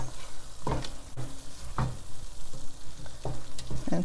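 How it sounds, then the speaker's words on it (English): Eggplant being gently stirred into masala frying in a pan, with a steady soft sizzle under several scraping stirs of a spoon against the pan. "So I'm going to add the eggplant now. Just gently mix the masala."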